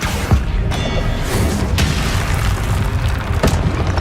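Confringo fire spell explosions in Hogwarts Legacy, a loud, continuous rumbling roar with several sharper booms and crackling bursts spread throughout.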